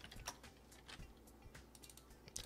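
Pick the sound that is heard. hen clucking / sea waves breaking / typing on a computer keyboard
typing on a computer keyboard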